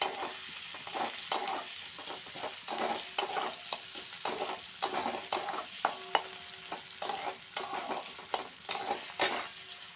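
Chopped onions frying in white oil in a pan, a continuous sizzle broken by repeated scraping stirs of a spatula, close and moderately quiet.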